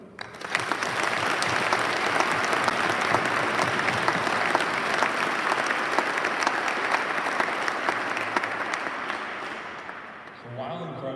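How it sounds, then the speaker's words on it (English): Audience at a military change of command ceremony for a medical group claps loudly and evenly for about ten seconds, then the applause fades and a voice begins. "So if you'll please join me in one initial round of applause for Roman and her leadership."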